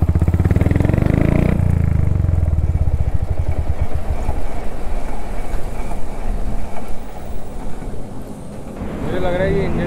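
A motorcycle engine running up close, revving and then idling with a rough, uneven knocking rattle from an abnormal engine fault, a voice briefly audible near the end.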